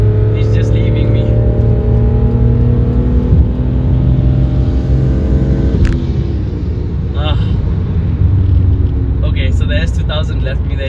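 A BMW E46 M3 pulls hard at around 4,000 rpm while racing a Honda S2000, a loud sustained engine drone heard from inside the car, with someone talking over it.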